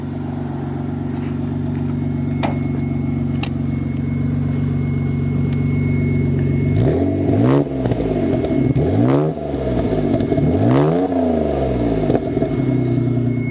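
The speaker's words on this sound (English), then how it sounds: "give it a little rev. Rev. Wanna hear the turbo." Lexus SC300 turbo engine with a straight pipe idling steadily, then revved hard in repeated sharp bursts that rise and fall, loud and close with some clatter, with no talk over it.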